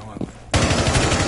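A shotgun fired in a tactical shooter video game, first a brief quiet stretch with a faint voice, then a sudden loud blast that rolls into rapid rattling repeated bursts of fire up close.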